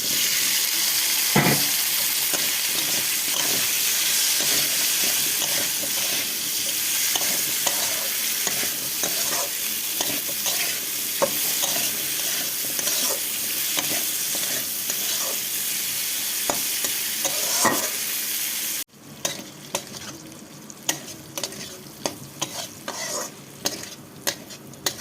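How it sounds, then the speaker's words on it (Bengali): Bitter gourd and potato fry in a pan with steady sizzling and frequent scraping stirs. Near the end the sizzle drops away, leaving quieter, sparse clinks and stirring sounds, with no speech. "উচ্ছে আলুটা ভেজে নেবো বন্ধুরা।"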